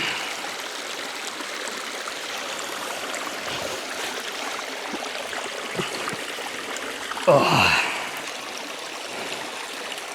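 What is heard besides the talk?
mountain stream water flowing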